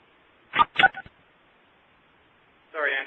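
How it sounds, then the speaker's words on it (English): Two or three short telephone keypad tones dial *7 to unmute a phone on a conference call, followed by a pause and a brief burst of sound near the end. "If you could hit *7 to unmute your phone"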